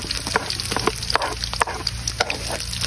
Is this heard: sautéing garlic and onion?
yes